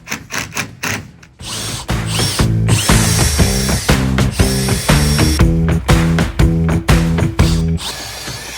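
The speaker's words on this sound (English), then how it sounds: "then we got to drill a hole through the boat for the light itself." Power drill boring a hole through a boat hull for a navigation light, loud close whirring in repeated rhythmic bursts with brief stops and restarts, no talking.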